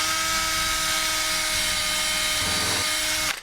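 Power drill boring out a hole while installing a 12-volt air conditioner in a camper, a loud steady whine held close for about three seconds, then cutting off abruptly.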